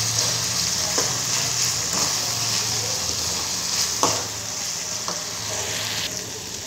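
Tomato curry sizzles and fries steadily in a pan, with a few soft scraping stirs at intervals over the continuous crackle.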